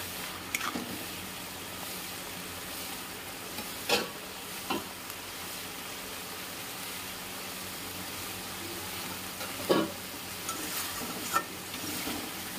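Spice paste masala frying in oil on a raised gas flame, a soft steady sizzle with a few sharp scrapes of stirring, faint and close, no talking.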